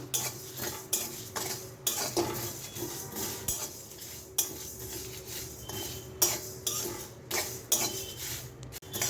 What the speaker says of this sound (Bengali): তিনটে শুকনো লঙ্কা পাঁচ ফোড়ন সর্ষে আর ধনে এই সব কিছু কড়াইতে দিয়ে হালকা একটু গরম করে নেব